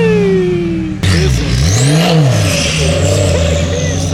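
Porsche 911 engine at a Porsche cars-and-coffee meet, idling steadily up close, then swelling through a quick rev that rises and falls before settling back to a loud, throbbing idle.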